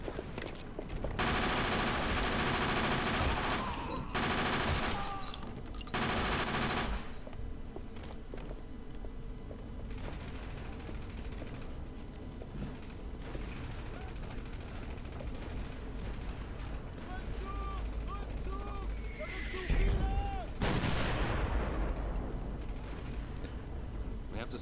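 Heavy 88 gun fire and battle noise from the video game Company of Heroes: dense, loud blasts and rumbling explosions fill the whole stretch, with mechanical clatter and voices in the mix.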